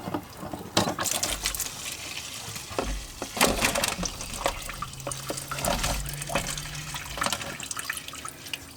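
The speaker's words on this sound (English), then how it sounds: "And there we have the filter removed, more fluid draining out of that." Fuel drains and drips from the removed fuel filter of an MK3 VR6 Golf into a container, an irregular trickle with splashy drops and clinks, close and steady with no talk.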